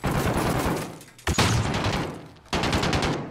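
Sustained automatic gunfire in the video game Call of Duty Modern Warfare during a night-vision raid, loud and close, with dense rapid bursts broken by a brief pause before the firing resumes.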